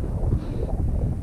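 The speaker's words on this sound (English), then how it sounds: "so windy" Strong wind buffets the microphone on a high mountain summit during an overnight hike, a steady, loud, low roar with gusty swells that fills the whole moment, no voices.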